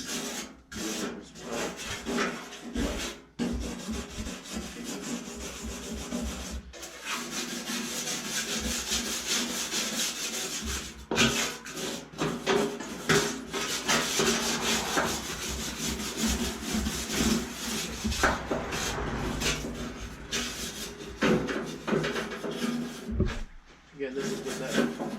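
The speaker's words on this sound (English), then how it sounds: "we're gonna clean up these welds a little bit" Welds on a Yerf Dog 3203 go-kart frame are cleaned up with a rasping, grinding abrasive tool in continuous close strokes, broken by brief pauses, while someone talks over the work.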